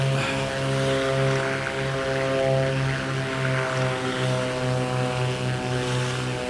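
A propeller aircraft in a flight simulator drones steadily during its takeoff roll and climb, a loud, even engine hum with strong tonal harmonics and no voices.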